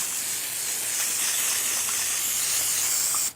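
Heavy-duty gel degreaser sprayed over a Porsche 911 3.2 Carrera engine, a continuous close, loud hiss that holds steady before cutting off abruptly.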